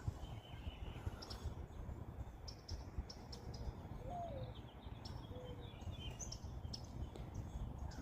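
Birds calling outdoors among trees in fog in the Tampa Bay area, with a few faint, brief chirps and coos over a steady, noisy ambient background, distant and without talking.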